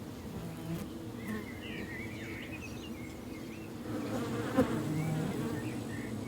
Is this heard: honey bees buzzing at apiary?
yes